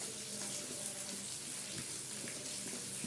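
Tap water runs steadily into a sink while half a kilo of rice is washed for Alexandrian sayadiya, a continuous broadband splash with small clinks, moderately close and without talk.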